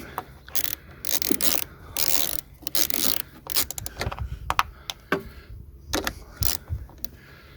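A wrench tightening the negative battery terminal clamp on a Mitsubishi Colt, a series of close ratcheting clicks in short bursts with pauses between.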